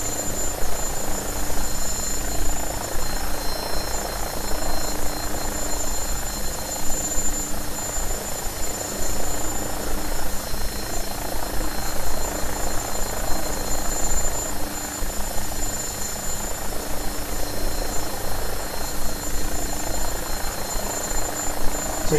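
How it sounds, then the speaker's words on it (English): A steady, droning rotor and engine hum from an AgustaWestland AW109SP helicopter turning in a holding pattern holds constant throughout, heard from inside or close by, with no talk. "So now this helicopter is turning for the outbound leg."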